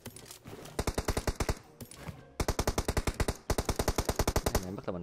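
Rapid bursts of automatic gunfire in a shooter video game, close and loud, several long strings of evenly spaced shots separated by brief pauses.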